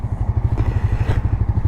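A Suzuki GSX-R 125cc motorcycle engine runs close by with a steady, rapid low pulsing throb and a brief swell partway through, with no voices.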